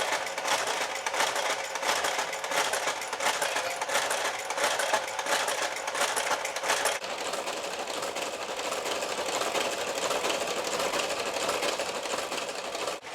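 An electronic knitting machine works an iPhone Pocket pattern with a dense, continuous mechanical whir and clatter. The rhythm is fast and even, loud and close, and the tone shifts slightly partway through, with no voices.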